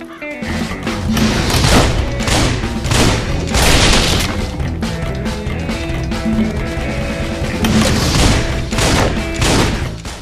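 Repeated shotgun blasts from WET, the action video game, boom in loud, heavy bursts, several overlapping volleys mixed with thuds and crashing impacts across a dense, busy game soundtrack.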